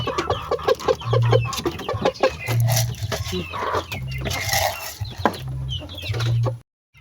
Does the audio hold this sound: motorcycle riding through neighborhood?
no